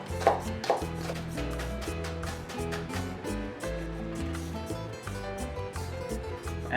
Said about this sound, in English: we want to cut some of the onions